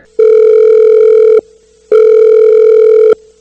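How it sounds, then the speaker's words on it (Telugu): Two long electronic telephone ring tones, loud and steady, separated by a short silent pause. "హెడ్ కానిస్టేబుల్ రంగయ్య వెంటనే ఎస్ఐ సార్ కి ఫోన్ చేశాడు."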